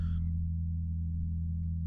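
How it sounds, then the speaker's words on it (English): Low-passed electric bass with the high end cut away, leaving a steady, dark low growl that sits alone for a couple of seconds after a brief brighter onset. "low mean growl that's just kind of happening in the background,"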